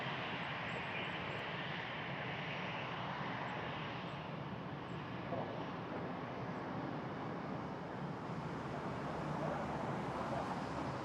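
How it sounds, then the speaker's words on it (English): An airplane landing at Frankfurt Airport, a steady broad engine roar that holds evenly throughout, distant and fairly faint with no talk. "Oh, another landing over here."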